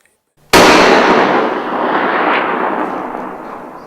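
A single rifle shot during a hunt, close and very loud after a moment of near silence, followed by a long rolling echo that fades slowly across open country.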